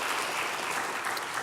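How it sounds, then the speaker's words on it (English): A dense round of audience applause at a monthly community meeting, steady and full throughout the short stretch with no break in the clapping. "Mary, I'll give you another round of applause."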